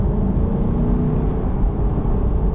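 A Lexus LC 500 Convertible's V8 engine produces a continuous loud, deep rumble and drone that holds steady throughout, heard close with no talking.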